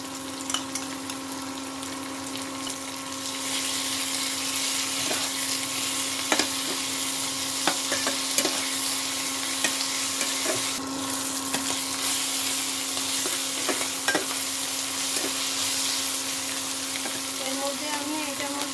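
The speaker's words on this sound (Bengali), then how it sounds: "আদা রসুন বাটাটা মিশিয়ে দিচ্ছি" Ginger-garlic paste is stirred into onions frying in a pan for a mutton curry, giving a continuous loud sizzle with occasional scrapes and taps of the spoon, and a steady hum running beneath it all.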